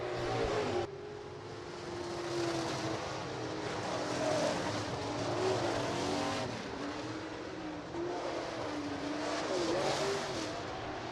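Late model street stock race cars roar around the Rapid Speedway oval during a heat race, with a steady engine drone that swells and fades as cars pass.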